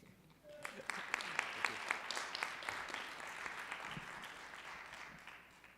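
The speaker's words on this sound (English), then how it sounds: "So I guess we should clap for Min too." A small workshop audience applauds after a talk: fairly quiet, scattered clapping starts after a brief pause, holds steady, then slowly thins out.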